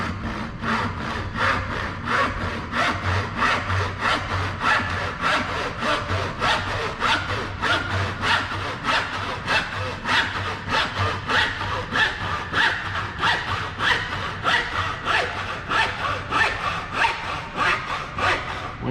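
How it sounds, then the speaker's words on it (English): A back saw cuts through a wooden board in steady, even strokes, about two per second, close and loud, with no talk over the rasping rhythm. "All right, so I'm going to make this cut with the back saw."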